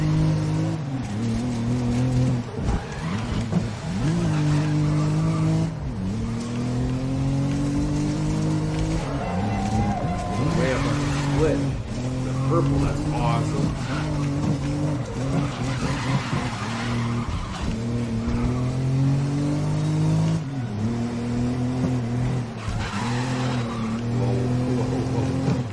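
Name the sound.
race cars driving from the video game GRID 2019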